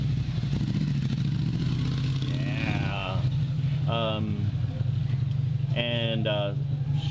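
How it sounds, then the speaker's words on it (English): Cars and motorcycles pass on a road in Thailand, a low engine rumble running steadily underneath. People talk over the traffic throughout. "Oh, there's traffic coming by."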